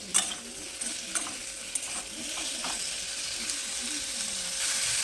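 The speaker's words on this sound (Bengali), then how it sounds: "পেঁয়াজ আর টমেটোটা দিয়ে এটাকে একটু ভেজে নেব" Onion and tomato sizzle steadily in hot oil as chicken masala is prepared, with a continuous bright frying hiss and a few light clicks of a utensil scattered through.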